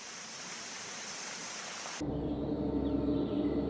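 Waterfall in a forest along the Munyaga River, a steady broadband roar of falling water that grows louder and fuller partway through, with no voices.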